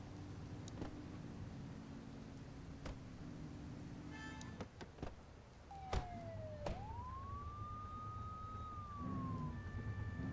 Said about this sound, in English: We don't need the siren on anymore.